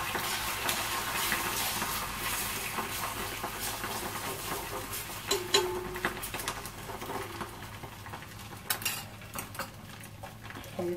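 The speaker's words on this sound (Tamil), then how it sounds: "நல்லா கலக்கி வச்சு எக்கு ஊற்றிடலாம்." Beaten egg poured into hot oil fries with a continuous soft hiss and sizzle, with occasional light clinks of a utensil against the pan and no talking.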